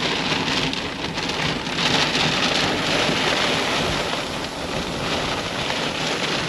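A thunderstorm over Broken Hill, Australia, with heavy rain pouring down in a constant, dense roar, gusty surges, and no voices heard.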